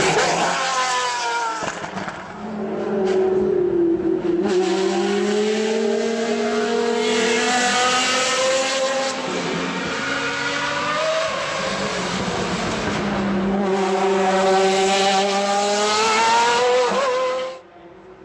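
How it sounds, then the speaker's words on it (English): A Lamborghini Murcielago engine burbles loudly through a downshift, its revs sweeping up and down in a smooth, continuous roar for most of the clip before cutting off near the end, with no voices. "With the burble on the downshift."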